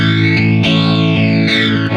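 Sustained electric guitar chords through a flanger effect from the AmpLion 2 amp simulator, with a sweeping, whooshing tone that rises and falls, loud and continuous without speech.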